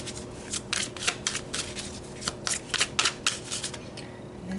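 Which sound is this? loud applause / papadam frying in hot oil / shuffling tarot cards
shuffling tarot cards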